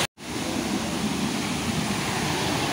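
Kalakad falls near Tirunelveli, a waterfall pouring with a steady, loud broadband rush that starts abruptly after a brief moment of silence and carries on without break.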